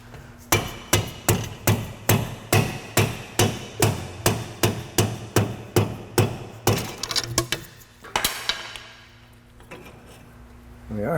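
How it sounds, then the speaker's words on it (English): Long screwdriver hammered against a differential seal to drive it out, about fifteen sharp, evenly spaced metallic strikes at close range, followed by a few quicker clinks and then quiet. "this long screwdriver I think is going to work very well for removing this seal"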